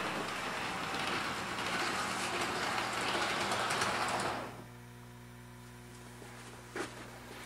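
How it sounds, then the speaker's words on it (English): A model train runs on an automatic DC reversing shuttle layout, a steady loud mechanical rolling hum that stops abruptly partway through, leaving a low motor drone and a brief click near the end. "Now that train should sit there a while longer before it starts up."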